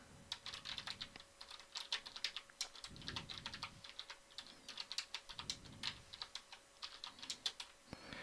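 Typing on a computer keyboard to enter a terminal command: quick, steady clatter of keystrokes with brief pauses, close and clear, with no one talking.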